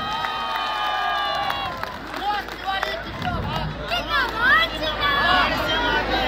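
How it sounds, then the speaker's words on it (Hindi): A crowd at a Delhi election campaign event with a wrestler and a politician claps and cheers, a sustained burst of applause and shouting that rises in waves with voices over it. "उनके लिए एक बार जोर से तालियां।"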